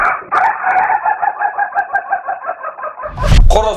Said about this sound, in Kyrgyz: А бул болсо туберкулез менен ооруган короз. Кыйкырып келатып, жөтөлүп кетип атат да.